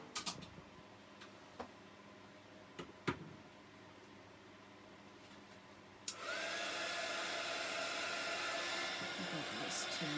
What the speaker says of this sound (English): oh, I have my dryer right here.